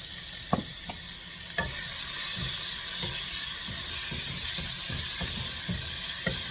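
Tomatoes sauté in a pan as the base for a village-style fish curry, a steady sizzle and hiss broken by occasional soft stirring scrapes and taps.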